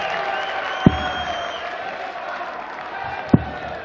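Crowd applause at a professional PDC darts match in the German Darts Open, a steady wash of clapping from a large arena audience, punctuated by two sharp thuds.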